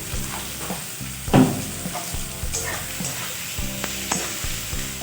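Chopped onion fries in hot oil for a meat-trimmings recipe, a constant close sizzle with stirring scrapes and one sharper clatter of the spoon against the pan.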